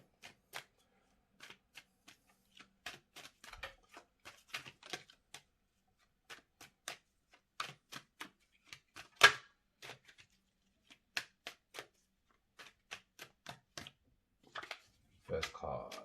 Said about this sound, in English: I'm gonna shuffle the cards